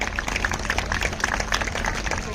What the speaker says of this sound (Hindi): And another round of applause is required.